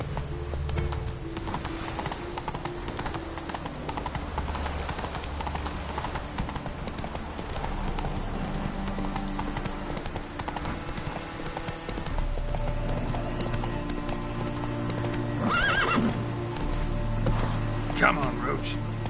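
Roach, a horse in The Witcher 3, gallops with steady clip-clop hoofbeats over a game soundtrack, with a brief neigh near the end while someone talks to the horse.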